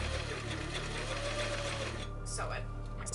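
A sewing machine runs steadily while stitching a ruffle onto the bottom of a skirt, a close, continuous whirring motor hum with a voice talking over it.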